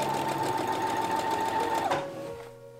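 Sewing machine stitching layered fabric and cording for a Victorian corded petticoat, a fast steady mechanical whir close up that slows and winds down near the end.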